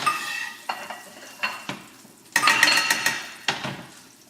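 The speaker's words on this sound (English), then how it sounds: "We're going to put in some French butter. Sunny's going to stir that around." French butter and grapeseed oil stirred in a hot pan, a close sizzle under repeated sharp scrapes and clinks of a utensil against the pan, with a louder burst of activity midway.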